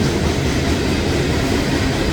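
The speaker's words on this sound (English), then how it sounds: "I don't know how well you can hear me over the train just rumbling on through." A freight train hauling a coal load rumbles past close by, a loud, steady roar of wheels and cars with no break.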